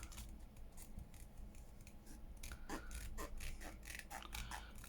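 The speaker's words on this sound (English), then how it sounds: "I think I'm going to trim this around just to make it just a little bit smaller" Scissors trimming a sheet of paper for a masterboard hinged journal, a quiet series of short snips and crisp cutting strokes close by, clustering more densely in the second half over faint room hum.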